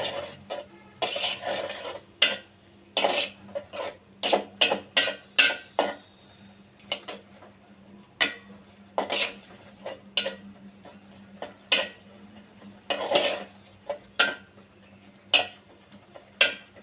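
A utensil stirs and scrapes browned onions in a pan for an egg curry with moong dal, making repeated sharp clinks and scrapes in irregular bursts over a faint sizzle, close and fairly quiet, with no talking.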